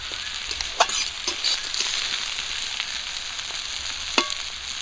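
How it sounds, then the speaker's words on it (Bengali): Bitter gourd slices fry in oil over a low flame, giving a steady close sizzle with a few sharper pops and light stirring clicks, no voices present. "করলাগুলো ভাজা হয়ে গেছে, তুলে নেব।"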